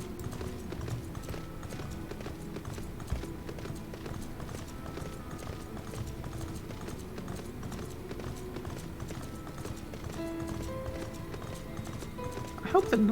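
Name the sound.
mount horse hooves in video game Final Fantasy XIV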